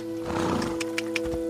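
A horse in the video game Assassin's Creed Odyssey whinnies over a steady game-music drone, with a few sharp hoof clops near the end.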